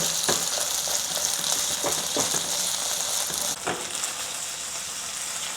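Beef for a ginger-scallion stir fry sears in a hot pan, giving a loud continuous sizzle with occasional sharp crackles and pops up close, easing slightly in the final seconds.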